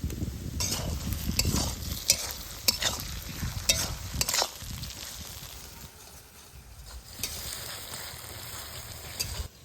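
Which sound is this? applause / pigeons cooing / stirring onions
stirring onions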